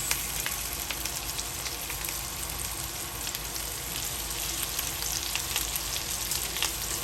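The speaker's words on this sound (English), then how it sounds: "When you hear that sizzle, that's what we're looking for" Lamb chops sizzle steadily in a hot pan, a dense continuous crackle and hiss with small pops, close and fairly loud, no voices.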